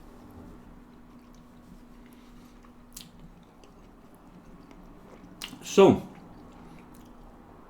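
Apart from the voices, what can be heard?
chewing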